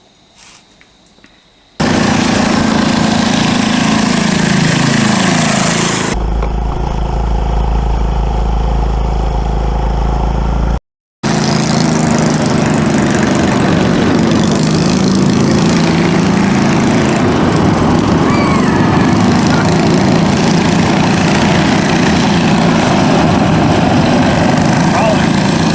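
Small mini bike fitted with a swapped-in Briggs engine, a Scotts Motovox, runs loud and close for most of the stretch, its steady buzzing drone briefly cutting out before resuming, with people talking over it.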